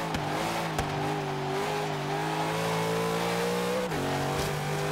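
A 2016 Aston Martin Vulcan race car in Forza Horizon 3 brakes into a corner: a loud, steady engine drone that sags slightly in pitch as it slows, with no talking.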